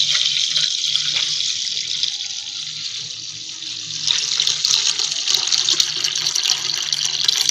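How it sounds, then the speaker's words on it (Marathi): Cooking water being drained off boiled lentils (chana dal) for amti, a loud, steady close gush of pouring water that swells slightly after a brief dip, with no talk. "कटाच्या आमटीसाठी पाणी काढून घेऊया."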